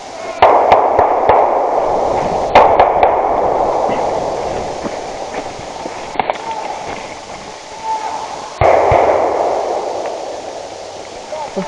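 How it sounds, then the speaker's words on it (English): Gunfire in a military video game: sharp shots and bursts crack out repeatedly under a shouting voice, set against a steady loud battle din with echoing reports. "Oh, shooting at me!"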